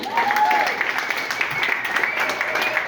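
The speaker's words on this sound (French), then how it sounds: "Stéphane Primard, on l'applaudit s'il vous plaît." Audience applause fills a small stand-up comedy venue as the performer takes the stage, steady clapping from a nearby crowd with brief voices and cheers over it.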